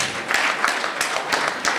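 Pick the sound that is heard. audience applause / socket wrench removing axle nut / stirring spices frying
audience applause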